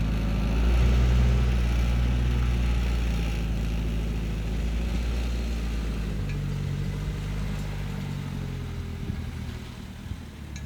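A restored 1950 Mercedes 170 S Cabriolet running smoothly, its engine a steady low hum that swells slightly early on and then settles into an even, close idle with no voices.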